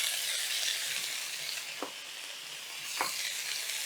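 Skillet potatoes sizzle and fry steadily as scallions go into the hot pan, with a constant bright hiss broken by two brief clicks or stirs, close and alone, no talking.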